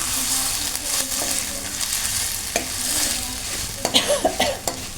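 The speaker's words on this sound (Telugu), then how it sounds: "ఇప్పుడు అల్లం తెల్లుల్లి పేస్ట్ వేసుకోవాలి. కొంచెం ఒక స్పూన్కి వేసుకొని దీన్ని కూడా ఫ్రై చేసుకోవాలి." Ginger garlic paste fries in a pan for a cauliflower masala curry, a steady close sizzle with a few scraping stirs and light utensil taps near the end; no speech.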